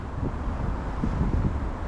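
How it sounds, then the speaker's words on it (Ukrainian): Steady side wind buffeting the microphone with a constant low rumble, gusting slightly, outdoors by a city lake in Kyiv in November, with no voices. "вітер боковий зараз"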